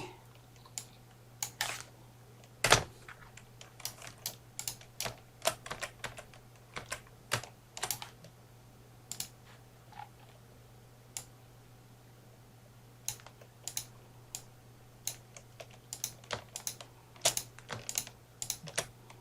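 Computer keyboard keys tapped in short bursts of clicks, repeated copy-and-paste shortcut presses with irregular rhythm, close and fairly quiet over a steady low hum.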